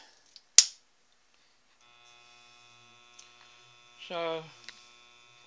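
Taig lathe fitted with a new Bison chuck, turning slowly at about 70 RPM: a steady, faint motor hum after a sharp early click, with a single spoken word near the end.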